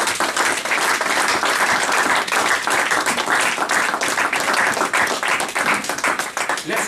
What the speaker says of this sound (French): Est-ce qu'on peut acclamer très fort devant les pas?